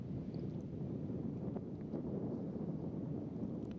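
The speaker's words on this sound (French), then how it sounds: "Un petit peu de vent quand même, on l'entend dans les micros" Steady low wind buffeting the microphones on an outdoor golf course during an Alps Tour tournament, a continuous rumbling roar with faint distant knocks and no talk.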